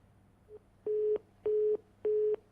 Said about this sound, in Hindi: लगता है संपर्क उनसे टूट गया